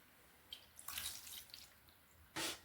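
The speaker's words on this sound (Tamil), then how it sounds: "தண்ணி ஊற்றிக்கலாங்க. ஒரு டம்ளர் அளவு தண்ணி ஊற்றினா போதும்." About a tumbler of water poured into a pan of frying chicken, short bursts of splashing and hissing with quieter gaps between.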